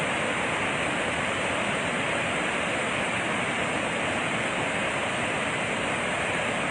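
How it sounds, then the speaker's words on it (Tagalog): A large volume of water pours out of the Magat Dam spillway as a loud, dense, unbroken roar of rushing water, steady and close with no voices. "Ngayon, mas malakas na naman yung pagpapakawala ng tubig."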